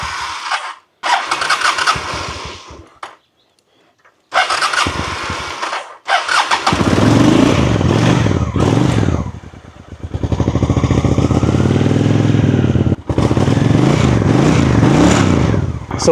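A cheap used Honda motorcycle is kicked over in bursts with pauses, then catches and settles into a loud, steady close-up idle with a brief stumble before running on.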